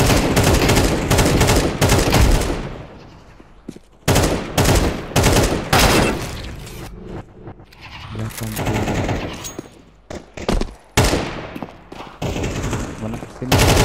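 Gunshots in Counter-Strike 2 on Dust 2 deathmatch, with repeated loud bursts of automatic fire and single sharp shots spread throughout, separated by brief lulls.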